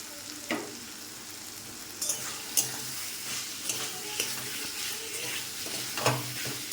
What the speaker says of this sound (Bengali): এবার আমি এর মধ্যে ভেজে রাখা আলুটা দিয়ে দেব।